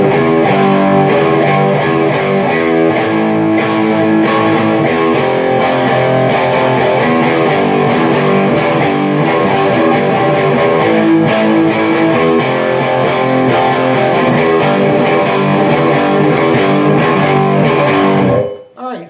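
Distorted electric guitar plays a riff with repeated string pull-downs, loud and continuous for about eighteen seconds before cutting off abruptly.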